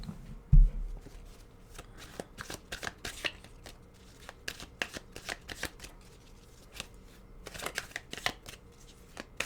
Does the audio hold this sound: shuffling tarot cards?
yes